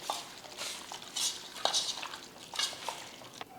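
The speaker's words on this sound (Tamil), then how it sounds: "மசால் போட்டு பெரட்டியாச்சு" Chicken is mixed and rubbed with yogurt and ground masala paste for biryani, producing soft wet squelching bursts and occasional light clinks in a quiet, close setting.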